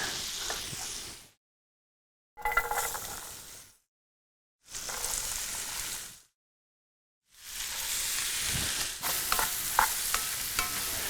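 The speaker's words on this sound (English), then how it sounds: "I'm going to put some butter in and start my vegetables." Vegetables go into butter in a hot pan for shepherd's pie, hissing and sizzling close up in four bursts separated by abrupt silent gaps.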